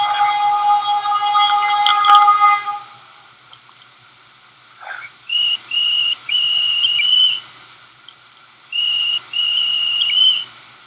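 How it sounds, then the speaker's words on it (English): A shrill train whistle in a Roblox Philippine railway game blows in several long and short blasts with gaps between, following a brief burst of mixed tones and a thud. "Here goes the whistle again."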